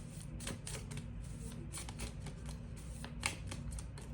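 Tarot cards being shuffled by hand in quick, papery riffles and flicks, close and fairly soft, with a sharper snap near the end and a low steady hum underneath.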